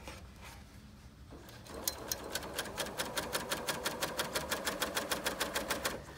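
Bernina L890 sewing machine stitching a cover-stitch test, starting quietly and then running into a fast, even series of mechanical clicks and needle taps.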